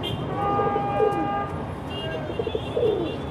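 Domestic pigeons in a rooftop loft give soft, low coos in a few short phrases over a steady background hum, with a faint high tone running beneath.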